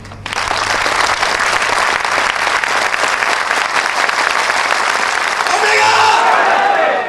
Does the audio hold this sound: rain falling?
no